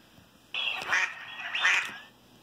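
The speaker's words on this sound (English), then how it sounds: "Duck." A mallard duck quacks twice in quick succession, two loud, close nasal calls about a second apart with nothing else around them.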